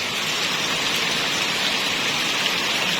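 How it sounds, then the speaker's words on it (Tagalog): Steady rain falls on a garden full of plants, a dense, continuous hiss with a soft, unbroken patter of drops. It stays even and fairly loud throughout, with no voices. "Ayan, rain, go away."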